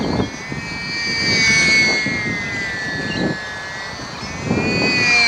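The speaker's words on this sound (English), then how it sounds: "Just an awesome little aircraft." A small SBACH 342 model aerobatic plane on a 200mAh battery flies overhead, its electric motor and propeller giving a steady high buzzing whine that swells and fades as it passes, fairly loud.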